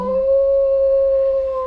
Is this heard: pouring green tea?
no